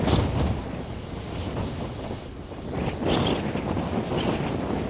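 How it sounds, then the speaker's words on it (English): Strong wind buffets the microphone at a rocket launch site on Kodiak, Alaska, a continuous gusty roar that swells and eases, loud and close with no other clear sounds. "That's awfully windy."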